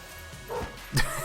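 A dog in the video game Enter the Gungeon gives two short barks over a steady game soundscape, the second louder and sharper.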